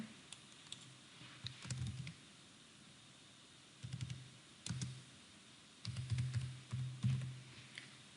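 Keystrokes on a computer keyboard, including a press of Enter, while a C# program is written; quiet clusters of clicks come in short bursts separated by silent pauses, close and soft.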